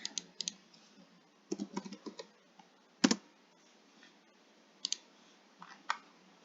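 Scattered keystrokes clack on a computer keyboard in short bursts with pauses between, close and fairly quiet.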